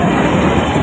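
A loud, steady rushing rumble of a train passing a railway crossing, broadband and continuous, with no voices.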